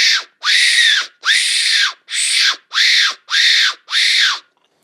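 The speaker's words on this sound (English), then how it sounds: "So this is the best fox call." Seven loud, close squealing calls blown on a fox call, each about half a second long with a rising-then-falling pitch, evenly spaced and heard alone without talk.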